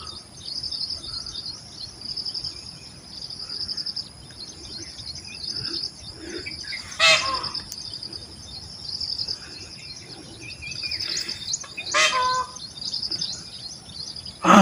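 Two loud, sharp peacock mating calls ring out several seconds apart in a forest over a constant high-pitched buzz of insects.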